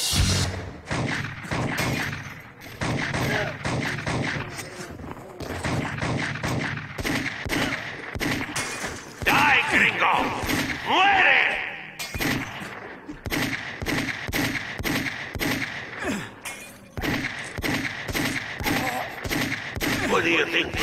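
The golden gun in the video game Total Overdose fires in rapid bursts and continuous volleys, loud and close, with brief pauses, thumps and impacts mixed in throughout and no spoken voice.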